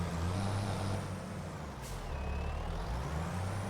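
A truck with trailers reverses in the video game Farming Simulator 25, giving a continuous low engine rumble with a brief hiss partway through, close and steady with no talk.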